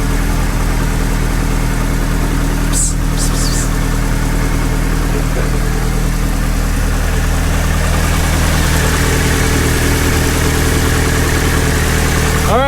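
A Toyota AE86 engine idles with the idle air control hooked up, giving a steady, close, continuous hum with a slight vibration and an even rhythm. A couple of brief clicks cut in near the start.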